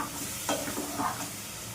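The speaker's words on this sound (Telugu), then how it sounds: "ఈ ఆయిల్, ఈ ఆనియన్స్, కొత్తిమీర బాగా కలిపేలా మనం తిప్పుకోవాలి." Oil, onions and coriander frying in a pan as they are stirred, the sizzle steady with a few louder scraping strokes near the middle, close up and with no voices.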